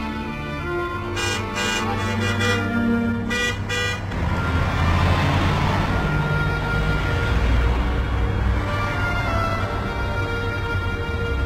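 A car pulls up at a house entrance and gives several short honks in quick bursts, followed by a steady engine rumble that settles under background music.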